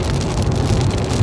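Steady rain pours down outdoors beside a road in Amish country, Pennsylvania, a dense, close, continuous hiss of drops striking surfaces with no voices.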